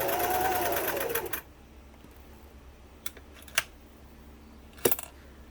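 A Singer 328k sewing machine stitches steadily for about a second and a half, loud and close, then stops; a few sharp clicks follow in the quiet.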